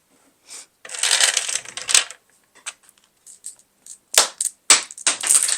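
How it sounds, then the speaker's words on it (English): Fish tank gravel pours and rattles into a hole in bursts: a long scattered cascade, then several shorter clattering drops after brief pauses, close and fairly loud with no talk. "Now you can drop your beads, your, what are they? Fish tank gravel in the hole."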